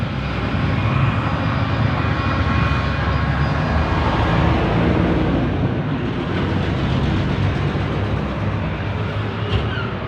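A Toyota Revo on the road after a propeller shaft center bearing repair gives a continuous, loud rumble of engine, tyres and drivetrain from inside the cab, with no voices.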